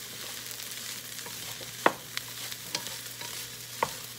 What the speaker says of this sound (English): I'm just going to stir it around with my rice.